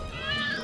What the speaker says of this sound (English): The kitties like her.